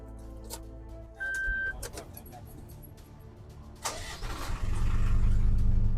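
A Foton Aumark S light truck engine starts and runs, rising into a louder steady rumble near the end, with a short beep early on and some background noise.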